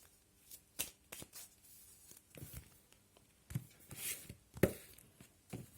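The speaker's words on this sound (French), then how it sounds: "Donc je vais battre les cartes." A deck of tarot cards being shuffled by hand, with repeated crisp riffles and soft slaps close up, irregular bursts with no talking.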